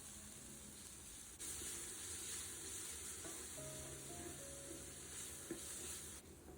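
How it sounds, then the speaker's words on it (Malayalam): Crushed shallots sauté with half a teaspoon of salt for a Kerala-style beef fry, a steady sizzle that swells louder after the first second, with occasional stirring scrapes and no speech. "ഈ ടൈമിൽ നമുക്ക് ഉള്ളി ചതച്ചത് ചേർത്ത് കൊടുക്കാം."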